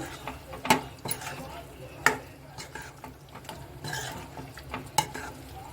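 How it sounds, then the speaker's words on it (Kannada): Chicken ghee roast masala being stirred in a pan, a spoon scraping and knocking against the metal in a few sharp clinks over a soft, steady sizzle, close by and with no talking. "ಎಡ್ಡೆ ಮಿಕ್ಸ್ ಕೊರ್ಕ ಒಂಜಿ"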